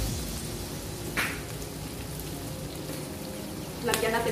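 Beefsteak and vegetables fry in a pan with a steady, rain-like sizzle that carries throughout, and two brief scraping clatters of stirring rise above it.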